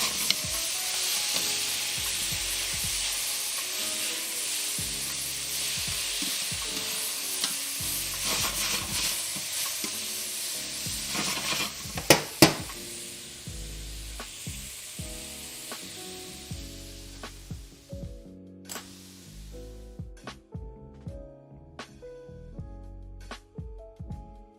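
Sizzling crackles steadily while a classic creme brulee is being made, a dense close hiss that thins toward the end into scattered pops and clicks.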